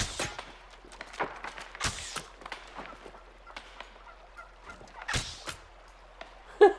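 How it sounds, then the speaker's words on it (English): Turkeys in the video game New World gobble in short, rattling bursts, with scattered sharp clicks and thumps from the game around them at a moderate distance. "Oh, turkey! Turkey! Come here, turkey."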